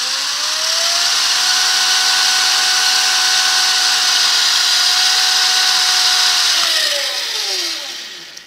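A power drill whirs steadily at high speed for several seconds, loud and close, its pitch dropping as it winds down at the end; it is spinning a DIY wind turbine generator.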